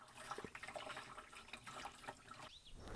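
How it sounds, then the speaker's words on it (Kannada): Water being poured into a chili-ginger pest repellent mixture of about 25 litres, a soft, faint splashing and trickling heard at low level. "ಇದು ನೋಡ್ರಿ ನೀರು ಇದು ಇಪ್ಪತ್ತೈದು ಲೀಟ್ರ್ ನೀರು ಹಾಕ್ಬೇಕ್ರಿ"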